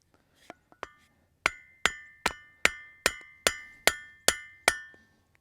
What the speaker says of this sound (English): she's a good hammer